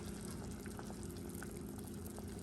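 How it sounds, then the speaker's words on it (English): Soup with carrots and corn simmers in broth in a pot, giving a steady soft bubbling hiss with faint pops, quiet and continuous throughout. "So I'm just letting it simmer in the broth now."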